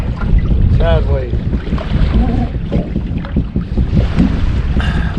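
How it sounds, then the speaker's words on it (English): Wind blowing across a lake on a fishing boat in cold weather, a loud, steady rumbling gust buffeting the microphone throughout, with faint voices and boat noises underneath. "We got the wind blowing in here"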